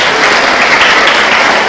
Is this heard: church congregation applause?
yes